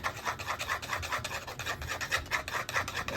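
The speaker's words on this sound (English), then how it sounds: "A good stir." Resin mix being stirred in a cup for a bloom-technique round coaster, heard as a steady rhythmic scraping and rubbing, close and fairly loud, with no voices.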